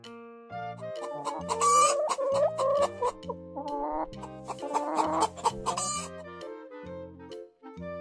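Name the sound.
hen clucking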